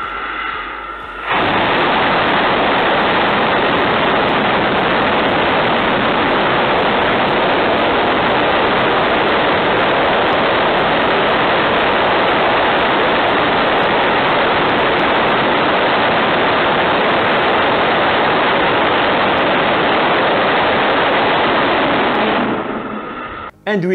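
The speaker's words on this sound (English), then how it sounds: "Now it's time for Super Heavy Booster 7 full duration 20 second static fire test." SpaceX Super Heavy Booster 7 full-duration static fire engine test at Starbase, a loud, dense, continuous roar lasting about twenty seconds, starting abruptly and cutting off sharply.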